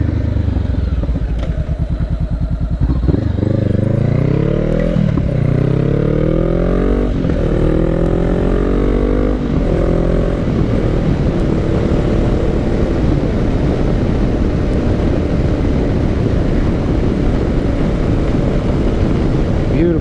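Motorcycle ride on the road, engine revving up through rising gear changes, then a steady loud drone mixed with wind roar, heard close from the rider's position.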